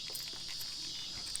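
Cicadas buzz in a steady high drone on an evening outdoors, a continuous faint insect chorus with a little low rustling beneath and no talking.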